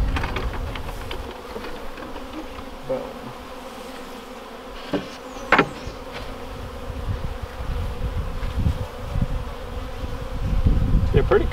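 Steady honeybee buzzing hums throughout around a hive, with a few brief louder passes close by and low rumbling handling noise underneath.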